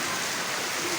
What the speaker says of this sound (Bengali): এই যে প্রচুর বৃষ্টি প্রচুর বৃষ্টি, ঘর থেকে বের হওয়া যায় না